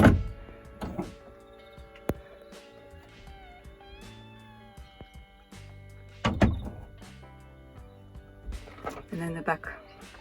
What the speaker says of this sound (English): And then he closes the doors.